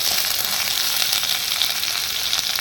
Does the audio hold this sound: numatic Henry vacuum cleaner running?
no